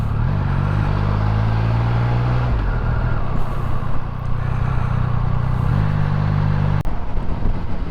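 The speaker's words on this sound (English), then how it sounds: "Yeah, I like that engine braking as well." Triumph Speed Triple 1200RS motorcycle engine heard from the rider's position, a loud low droning engine note that shifts pitch as revs fall and rise, with wind rush over it.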